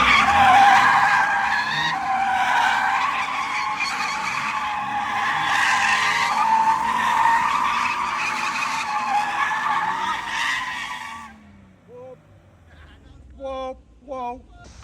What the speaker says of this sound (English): so much fun out just burning tires off